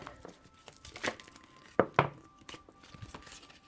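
Tarot cards being shuffled by hand give a soft, papery riffle with a few crisp slaps and rustles over a quiet room, fairly close and gentle, with no talking.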